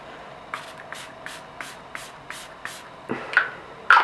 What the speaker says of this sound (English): I'm gonna spray some setting spray.